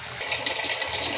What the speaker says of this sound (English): here I have put my soaps in, and I have my water running